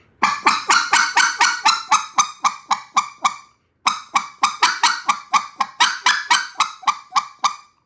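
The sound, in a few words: goose call played as a clean single note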